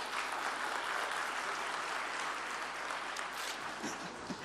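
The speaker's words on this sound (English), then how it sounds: "Mr. Peter Maurer, to deliver his speech with a big applause" Steady, full audience applause in a conference hall welcoming the president of the International Committee of the Red Cross to the stage, sustained and even throughout.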